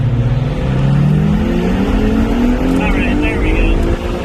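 An Acura NSX pace car at the Long Beach Grand Prix runs loud down the front straightaway, its engine rising steadily through the gears from inside the cabin, with voices talking over it.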